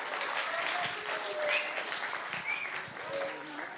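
An audience applauds at a stage performance tribute, with steady, sustained clapping from a crowd throughout and a few voices mixed in.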